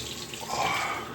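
Water runs from a bathroom tap as a face is wetted before shaving, a short steady hiss close by.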